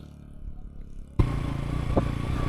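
A Honda CB Hornet 125 motorcycle labours up a steep off-road mountain climb in first gear toward Umling La in Ladakh, its engine note jumping suddenly louder and strained partway through with clattering over rough ground.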